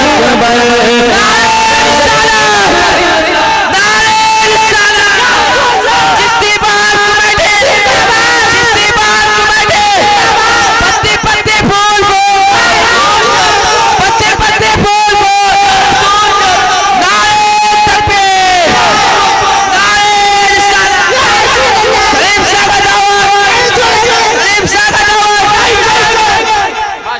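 A large crowd at an Islamic naat gathering chants loudly and continuously in answer to a takbir call, dense massed voices filling the whole stretch without pause.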